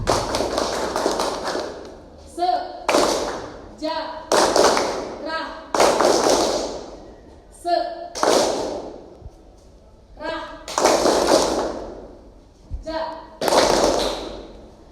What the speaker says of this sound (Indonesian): Tepuk sejarah.